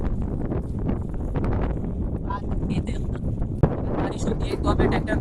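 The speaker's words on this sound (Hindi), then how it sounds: "तूफान चालू हो चुका है दोस्तों, फिर भी हमारी ट्रैक्टर कंटिन्यूसली काम कर रही है" Storm wind gusts hard across an open farm field where a tractor keeps working, a loud rough buffeting rush against the microphone with a low rumble underneath and a person talking over it.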